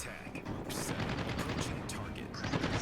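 Bombs and gunfire rumble through a naval combat video game, a dense continuous barrage of blasts and shots with bursts of crackle, heard alongside speech.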